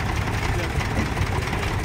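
Massey Ferguson 135 tractor, a slightly tuned version, idling at a vintage tractor show with a loud, steady, rumbling engine drone close by, with talk under it.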